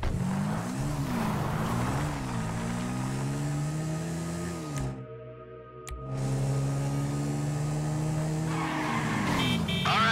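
A car drives in Grand Theft Auto V, its engine droning and shifting pitch as it revs, with tires squealing. The sound drops out briefly in the middle and then comes back loud and steady.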